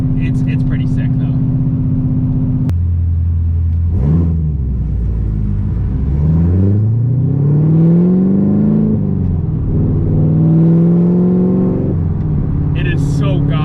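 A Corvette C7 Z06 fitted with a new loud exhaust idles with a deep rumble, then revs in several rising and falling swells, booming close by, with brief voices at the start and end.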